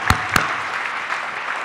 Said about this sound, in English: let's give her a clap before you even see this